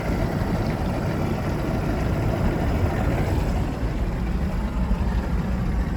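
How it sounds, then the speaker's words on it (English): A Mercury 120hp Force two-stroke outboard motor idles in neutral, giving a steady, continuous low rumble at a constant level with no revving and no voices. "I'm not gonna turn her off yet, just so you can hear her idle."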